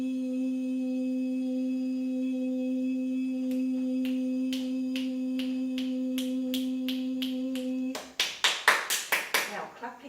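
Single person claps slowly and sharply over a steady hum, the claps speeding up into a brisk, loud flurry near the end.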